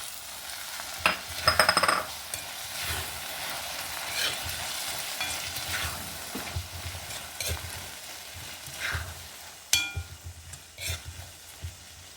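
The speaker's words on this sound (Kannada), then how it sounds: "ಬೇಯಿಸಿದ ನೆಲಗಡಲೆ ಹಾಯ್ಕೊಂಬ" Boiled peanuts being stirred in a pan, with soft scraping and a low sizzle, plus a few louder clanks and scrapes along the way.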